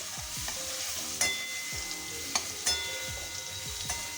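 Chopped green chilies stirred through a frying pan of cooking papaya, with a steady low sizzle and repeated spatula scrapes, plus a few sharper clacks against the pan.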